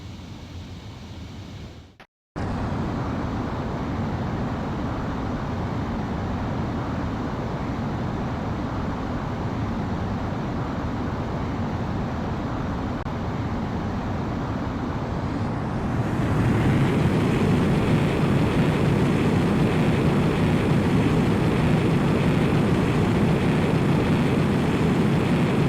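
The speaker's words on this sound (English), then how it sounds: "Griffith 1, you are cleared for takeoff" A fighter jet takes off in the video game Ace Combat X, with a steady roaring engine rush that swells louder and brighter partway through as the jet accelerates, heard alone without talk.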